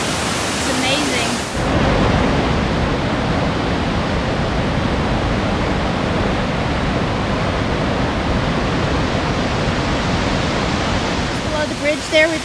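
Rushing water of Bradley Fork Creek in Great Smoky Mountains National Park, swollen with extra flow, roaring as a loud, constant broadband wash close by, with brief voices at the start and end.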